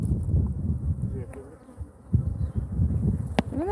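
A honeybee swarm buzzes in a dense, continuous hum, loud and close, with a few brief voices in the background.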